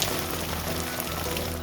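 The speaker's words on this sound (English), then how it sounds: "The rain started coming down pretty steady." Steady rain falling outdoors at a farmers market cookout, a dense continuous patter on surfaces with no voices, even in level throughout.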